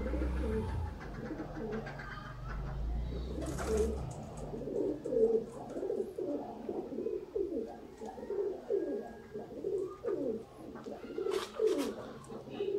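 Old Sialkoti rooftop pigeons coo in a repeated rhythmic series of soft, throaty calls, close and moderately quiet, with a few brief thumps and rustles in between.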